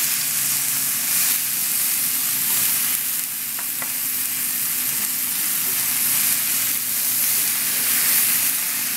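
Tomatoes tossed into a pan of softened garlic and onions for Provençal ratatouille give off a loud, continuous hissing sizzle close by, with faint stirring scrapes and no talking.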